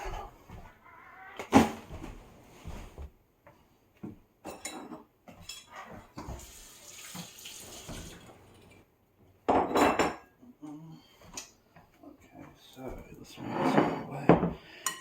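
Kitchen cleanup during pasta cooking: cupboard doors, dishes and utensils clatter and thump in scattered close bursts, with quiet gaps in between and a person talking at times.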